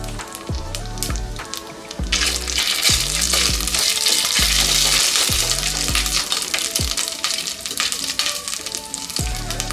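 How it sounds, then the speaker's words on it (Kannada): Cumin seeds and ginger paste hit hot oil that already holds mustard seeds for an egg masala. Clicks and small pops come first, then a loud, continuous hiss of frying with scattered crackles and stirring knocks. "ಅರ್ಧ ಸ್ಪೂನು ಜೀರಿಗೆ, ಒಂದು ಅರ್ಧ ಸ್ಪೂನು ಶುಂಠಿ ಪೇಸ್ಟ್ನ ಹಾಕೋತಾ ಇದ್ದೀನಿ"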